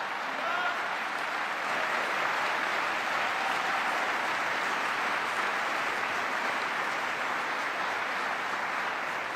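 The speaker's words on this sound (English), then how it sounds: "Clap for that, folks, because she deserves it." A large audience at a Department of Defense farewell event applauds in a sustained, even roar of clapping that holds steady from start to finish with no voices standing out.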